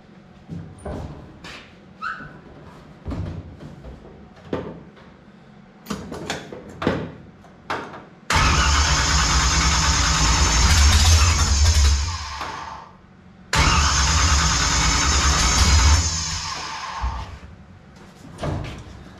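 A 1955 Chevy project engine on its first start attempt, loud cranking bursts that run for several seconds twice after a stretch of scattered knocks and clanks, close by.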